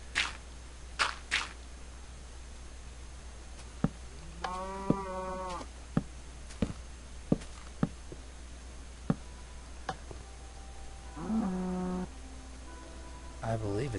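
Cows in the video game Minecraft give two drawn-out, moderately loud moos several seconds apart, while sharp isolated clicks and soft taps, like footsteps or game ticks, scatter irregularly across an otherwise quiet background hum.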